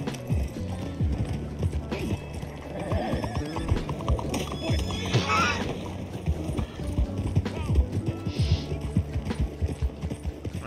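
Horse hooves clip-clopping and a whinny in the video game Red Dead Redemption 2, steady hoof beats under game ambience with a brief neigh midway and some faint background sounds.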